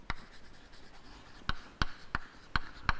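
Writing on a board during a physics lecture, faint scratchy strokes punctuated by a handful of sharp taps in a quiet room.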